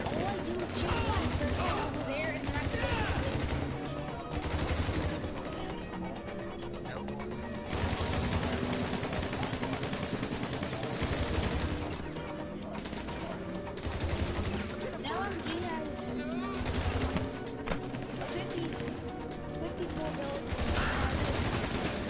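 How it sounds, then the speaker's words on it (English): Dense, sustained automatic rifle fire from a bullpup rifle in GTA Online during a heist, bursts nearly continuous and loud, with explosive crashes mixed in and someone talking over the shooting. "Bullpump rifle holds a lot of bullets and it's really powerful"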